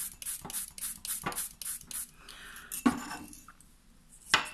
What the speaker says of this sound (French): je vais rincer avec mon spray d'eau